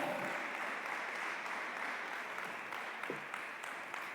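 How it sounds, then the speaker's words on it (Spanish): A church congregation applauds steadily throughout at a moderate level, a soft continuous wash of clapping with no speech over it. "dele un fuerte aplauso al Señor"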